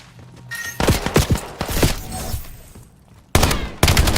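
Several players fire at once in the shooter game Warzone: bursts of overlapping gunshots and rapid fire, loud and close, with a short lull before two more sharp shots near the end.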